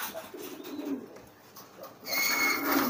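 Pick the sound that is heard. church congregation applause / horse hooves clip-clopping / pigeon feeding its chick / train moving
pigeon feeding its chick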